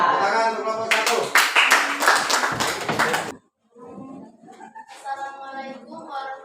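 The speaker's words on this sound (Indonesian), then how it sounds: "Tepuk tangan untuk kelompok 1" A classroom group breaks into clapping and tapping for a presenting team, a burst of scattered hand claps lasting a few seconds before a brief silence and then talking.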